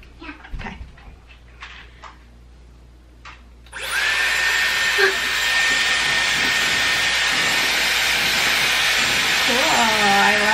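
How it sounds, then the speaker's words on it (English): A few quiet clicks and shuffles, then a Dyson Airwrap hair dryer switches on with a loud, steady rushing whir that continues to the end. "this might be a little loud, okay? It's a hair dryer."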